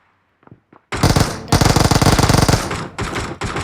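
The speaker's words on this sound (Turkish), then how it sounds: "Dedim ki, buradan uzi səslər." An Uzi submachine gun fires in PUBG on the Erangel map, with a few faint clicks followed by loud, rapid automatic bursts with brief pauses between them.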